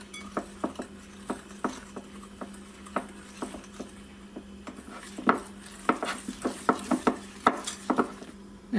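A lemon extract and yellow food gel mixture is stirred in a bowl, producing light, fairly quiet clinks and taps of a utensil against the dish in an uneven rhythm that quickens toward the end, over a faint hum.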